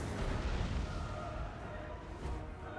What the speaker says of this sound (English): Gonna focus my Hell Cannon fire on taking him out.